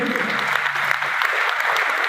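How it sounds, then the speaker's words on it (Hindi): An audience at a seminar claps loudly, a dense, steady wash of applause from many hands with no break across the short stretch. "ताली जोरदार बजाई, बिजनेसमैन की तरह"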